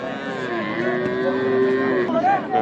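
A long, loud bull moo with a steady low drone that bends upward at the end, close by, over a busy background murmur of crowd noise at a Nilphamari cattle market.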